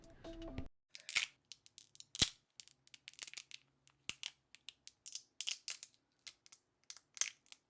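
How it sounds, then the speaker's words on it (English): Plastic supports snapping and crunching off a resin 3D print of a life-size Eevee figure, a quiet series of sharp, close clicks and cracks at irregular intervals. "I'll carefully pop off the pieces and then enjoy some support removing ASMR."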